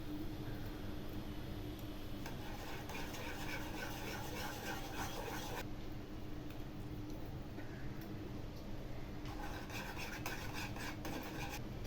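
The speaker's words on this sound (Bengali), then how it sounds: "ছানাটাকে দুধে ভালো করে মিশিয়ে নিয়েছি" Chhana (cottage cheese) being stirred into milk for payesh, faint continuous rubbing and scraping in a pot with occasional light ticks of the utensil.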